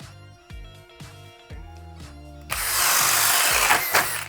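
A Flex cordless drill bores into wood, starting with a few short pulsing bursts and then settling into a louder continuous grinding whine as the bit bites in, close and without talk.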